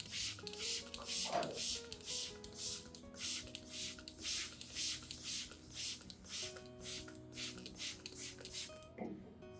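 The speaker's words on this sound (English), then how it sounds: "you can apply a light mist to help prevent slugs and other insects from attacking" A spray bottle mists anthurium leaves in a series of soft, evenly spaced hissing puffs, about a dozen in quick rhythm, close and fairly quiet, with faint handling noises.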